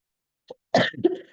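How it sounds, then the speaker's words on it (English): A single short cough, then a brief pause and a harsher burst of coughing or throat clearing, close and fairly loud, with no talking. "I'm so sorry for coughing on you over and over again"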